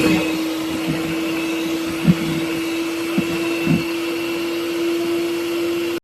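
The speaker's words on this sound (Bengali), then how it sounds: "তো এটাকে এখন বিট করে নেব বিটার দিয়ে" An electric hand beater whips separated egg whites for a cake with a steady, loud motor whine and hum throughout, broken by a few brief knocks of the beaters against the bowl before it cuts off.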